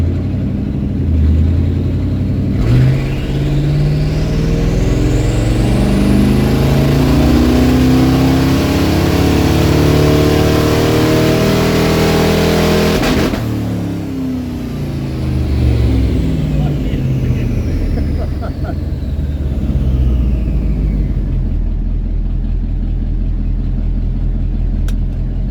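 Twin-turbo 1954 Cadillac engine on a dyno, the throttle snapped open from a low idle: a loud, sustained revving roar that climbs steadily in pitch, drops back, then rises again, with a deep rumble underneath throughout.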